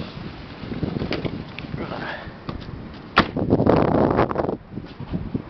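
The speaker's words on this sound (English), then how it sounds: "It's pretty windy, so bear with me." Strong outdoor wind buffets a microphone beside a 1995 Chevy Blazer, gusty rumbling noise throughout with a few sharp knocks and a louder blast near the middle.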